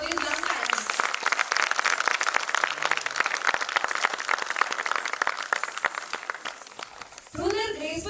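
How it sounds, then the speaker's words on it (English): An audience at a conference cultural session applauds young dancers of Indian classical dance with sustained clapping from a crowd. It runs steadily for several seconds, then fades as a voice begins speaking at the end. "Let's give a huge round of applause for these young talents"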